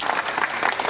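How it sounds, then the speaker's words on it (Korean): Warm, dense applause from a group, steady and fairly loud throughout the brief moment. "소장님 힘내시라고 정말 뜨거운 박수와 함께"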